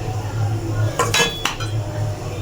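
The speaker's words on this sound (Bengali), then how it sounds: "আমি ঢাকাটা তুলছি" A metal pot lid clinks twice as it is lifted off a simmering rui fish curry, sharp and close over a low steady kitchen hum.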